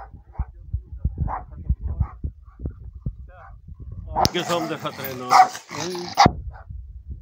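A dog barks a few times early on, fairly near, at a village house, and then people talk loudly over the last few seconds.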